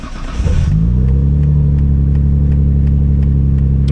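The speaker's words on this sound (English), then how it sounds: "let's drive her." A Nissan Skyline R33 GTR with mild cams pulls away from near idle into a loud, sustained rev, its deep engine drone steady and close with faint rhythmic ticks over it.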